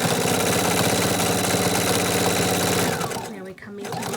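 Sewing machine stitching a baby burp cloth, a loud, steady rapid whirr running for about three seconds before slowing and stopping, then starting up again.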